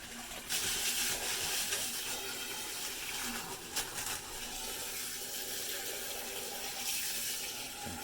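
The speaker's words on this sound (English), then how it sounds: "we just get it in there and stir it up a little bit." Water running from a hose into a bathtub as it fills and gets stirred, a continuous close splashing rush with brief louder swirls and no talking.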